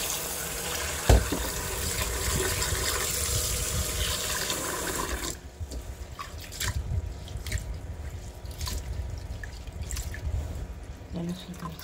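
Black glutinous rice being rinsed and swished by hand in water, with splashing and dripping that thin out to sparse drips and light handling sounds midway, near and fairly quiet.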